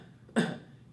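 A single short, sharp human cough, close and loud, standing alone after a quiet moment.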